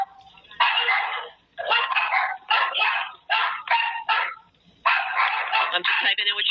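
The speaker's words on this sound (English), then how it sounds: "I hear the dogs barking" Several dogs bark in rapid, overlapping bursts, loud and close, with brief pauses between volleys.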